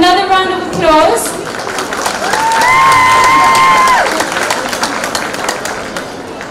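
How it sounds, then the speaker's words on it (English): An audience claps and cheers for a children's Bollywood dance performance at a mela, a loud, sustained crowd roar with scattered shouts, while a voice on a microphone talks over the start. "Please give them another round of applause"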